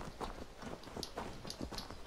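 Hooves clip-clop steadily as a horse walks in Assassin's Creed Valhalla, through the forest of Thetford, with an even near rhythm over a dense game soundscape.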